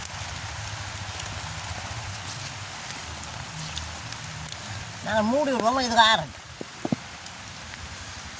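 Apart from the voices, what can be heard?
rain falling outdoors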